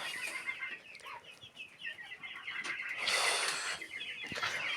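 Chickens cluck and chatter in a coop, several birds calling in quick overlapping bursts at close range, with a louder flurry of fowl sounds near the end.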